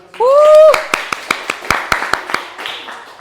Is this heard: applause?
yes